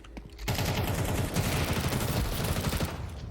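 Dense, continuous gunfire in the video game Counter-Strike 2, a loud sustained barrage of overlapping shots with no break after a short quiet start.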